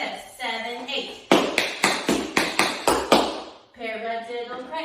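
Tap shoes beat out a paradiddle cramp roll, a quick run of about eight sharp, evenly spaced strikes with close spoken voice before and after.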